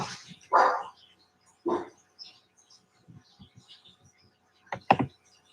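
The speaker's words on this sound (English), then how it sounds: "Tina, you don't need to bark right now" A dog indoors lets out a few sharp barks spaced well apart: one near the start, another a second later, and a final pair near the end. Quiet room noise and light shuffling fill the gaps between them.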